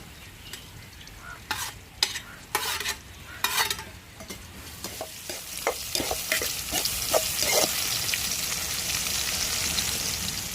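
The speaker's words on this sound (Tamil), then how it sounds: "சின்ன வெங்காயம் நம்மளுக்கு நல்லா வதங்கிருச்சுங்க தக்காளி சேர்த்துக்கணும்" Shallots and tomato are stir-fried in a pan, with a spoon scraping in uneven strokes over a sizzle that builds into a steady, close frying hiss.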